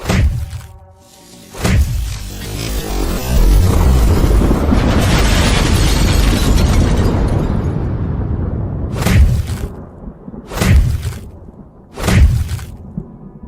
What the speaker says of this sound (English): The pillar began to crack and crumble, fragments of stone falling to the ground with a dull, resounding thud